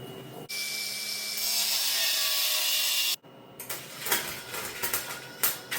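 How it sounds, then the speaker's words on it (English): Power tool cutting leftover metal pieces off a mini bike frame, a steady loud grinding cut for about three seconds that stops abruptly, followed by scattered clanks and handling noises. "So first things first is cutting off these pieces he left on here for me"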